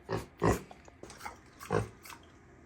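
A pig kept as a house pet on a farm grunts in several short, close bursts, with quieter snuffles between them.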